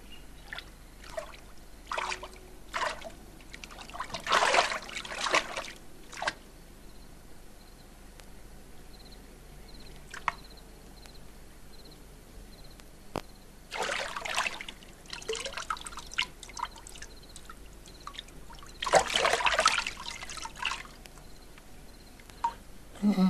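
Water poured through a sieve into a hollow willow in an audio drama, heard as several separate bursts of splashing and trickling with quiet drips between them.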